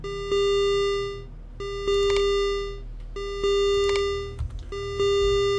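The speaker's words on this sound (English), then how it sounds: "We have an alarm going off." A repeating electronic alarm sounds in the spaceship game Ostranauts. Bursts of steady high beeping about a second long are separated by short gaps, with faint low background hum and no talk.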